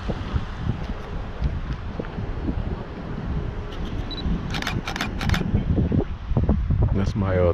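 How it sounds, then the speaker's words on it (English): Several quick clicks from a 35 millimeter Canon SLR camera shutter snapping pictures outdoors, set against steady wind noise and low rumble, with a person talking nearby. "That's my 35 millimeter Canon. I'm getting some good pictures."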